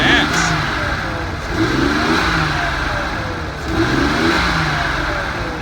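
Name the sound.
Nissan 280ZX turbo engine revving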